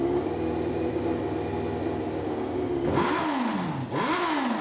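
A historic racing motorcycle engine idles with a steady buzzing drone, then is blipped twice in quick succession, each rev climbing sharply and falling away, loud and close.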